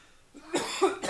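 A single short cough from a person, fairly faint and close, breaking briefly out of near silence.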